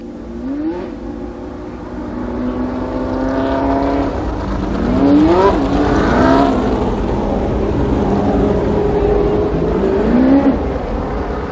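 Late model stock cars running a ten-lap heat at Columbus Motor Speedway in 1993, several engines rising and falling in pitch as cars sweep past, loud and continuous with repeated swells.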